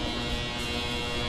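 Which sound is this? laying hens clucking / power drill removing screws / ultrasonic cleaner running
ultrasonic cleaner running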